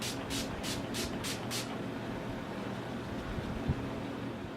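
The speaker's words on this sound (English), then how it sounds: "I'm going to use my Urban Decay Chill Makeup Setting Spray" Five quick hissing spritzes from a bottle of Urban Decay Chill Makeup Setting Spray in a steady rhythm, close by, followed by quiet background noise.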